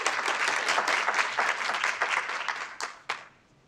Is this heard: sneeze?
no